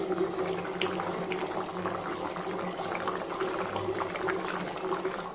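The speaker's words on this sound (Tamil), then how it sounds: "பாருங்க குழம்பு நல்லா கொதிச்சுட்டு மீனுமே நல்லா வெந்துடுச்சு." A pot of fish curry bubbles at a steady rolling boil, a dense continuous simmering hiss with small pops throughout, close by and alone.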